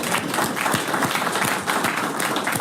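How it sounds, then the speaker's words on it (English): A city council meeting audience claps for a Santee Chamber of Commerce 70th anniversary proclamation, dense continuous applause from a roomful of people at close to moderate distance, with no voices over it. "This is where you clap."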